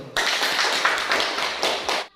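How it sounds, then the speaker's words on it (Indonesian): Schoolchildren in a classroom clap together in a short, close burst of rhythmic hand claps lasting about two seconds before stopping suddenly. "Tepuk tangan dulu."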